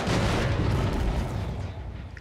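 A loud explosion in the video game Dead by Daylight, a sustained deep rumbling boom that stays strong and slowly fades over about two seconds, with no talk.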